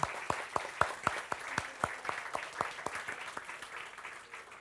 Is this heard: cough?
no